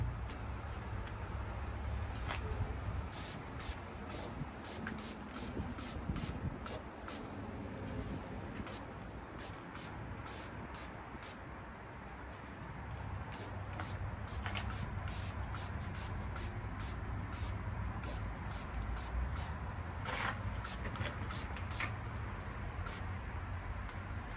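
Dr Beasley's chassis coating is sprayed onto a new Ford Bronco in short, repeated hissing bursts with brief gaps, over a steady low background rumble.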